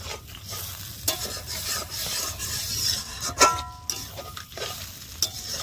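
Snail curry masala with a little water fries in a pan under continuous stirring, with rasping scrapes and sharp utensil clinks over a low steady sizzle.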